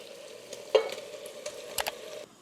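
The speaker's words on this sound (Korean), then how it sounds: "이렇게 버터물이 이제 충분히 녹았을 때 단호박을 넣어줄게요" Kabocha pumpkin sautéing in melted butter in a pan for soup, a soft steady sizzle with a couple of sharper clatters from stirring, fairly quiet with no talking.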